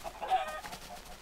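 Chickens clucking in a Minecraft automated chicken farm, a short burst of game-style hen clucks at moderate level with no speech.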